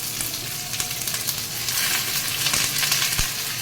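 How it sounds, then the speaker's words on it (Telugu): Bitter gourd pieces, onion, curry leaves, green chillies and brinjal frying in a pan for Andhra kakarakaya pulusu, a continuous crackling sizzle with stirring sounds, close and fairly loud. "తర్వాత ఇందులో వేగిపోతున్నాయి కదా కాకరకాయ ముక్కలు, ఉల్లిపాయలు, కరివేపాకు, పచ్చిమిర్చి, వంకాయ."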